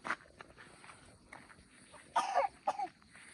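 A person walking along a village path coughs in a few short, fairly faint bursts, with soft footsteps and quiet outdoor background between them.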